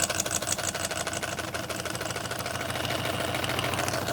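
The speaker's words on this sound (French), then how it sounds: "Je peux pas dire que ça tourne très vite, mais ça tourne rond" A homemade Stirling engine runs steadily at a modest speed, giving a continuous mechanical whir with a rapid, even rattling rhythm close by, with no talk over it.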